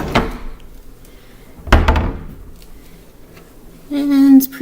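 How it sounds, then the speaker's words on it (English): Kitchen cabinet doors under a sink bang shut during a house inspection, two sharp knocks about two seconds apart, close and loud, followed by a brief tonal squeak or scrape at the end. "Cabinet doors closed correctly."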